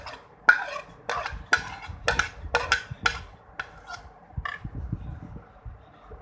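Chana chaat salad with cabbage, cucumber, onion, tomato and green chilli is tossed in a bowl, giving a series of sharp clinks and scraping knocks in an uneven rhythm, fairly close, with soft rustling between strikes.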